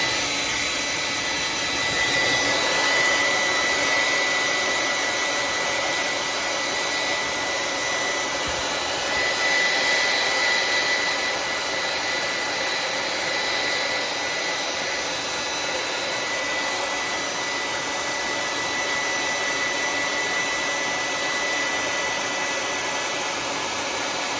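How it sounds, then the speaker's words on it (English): A continuous loud whooshing hum of a hair dryer blowing on a freshly painted fishing lure, steady throughout with slight fluctuations in intensity. "Get our hair dryer and we'll dry it on."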